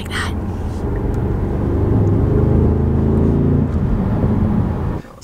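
Deep, throaty engine rumble rising and falling as a 2018 Audi S6 accelerates, heard close from inside, with a faint voice at times.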